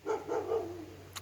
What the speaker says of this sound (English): there's this dog barking at me